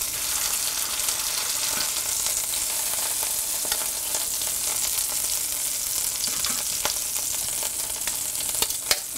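Pork tenderloin sizzles in a pan, a loud, unbroken frying hiss close up with scattered small pops and spatters throughout, and no talking.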